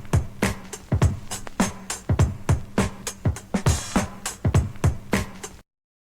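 A hip hop break beat drum groove layered with added hand claps and finger snaps, played for a pop song; sharp, regular hits and punchy kicks repeat steadily and up close, with no talking over it.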